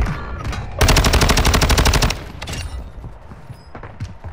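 Loud automatic gunfire from a multiplayer shooter game fires in one rapid sustained burst of over a second, then sparser scattered shots and faint noise follow, with no speech.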